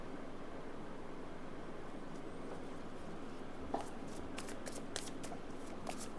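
Tarot cards shuffled by hand, heard as a few quick riffling bursts and soft flicks in the second half over a steady background hiss, close by and with no speech.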